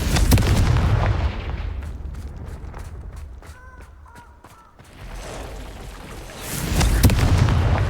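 Confringo fire spells explode in the Hogwarts Legacy video game with deep, rumbling booms at the start and again near the end, around a quieter stretch with brief tonal chimes and light footsteps.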